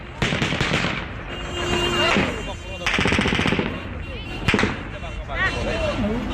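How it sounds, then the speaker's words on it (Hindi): Gunfire outside Kabul airport: repeated bursts of rapid automatic shots crackling in several loud clusters, with overlapping voices and shouting from a crowd in between. "किस तरह से तड़ातड़ फायरिंग की आवाजें वहां से सुनाई दे रही हैं"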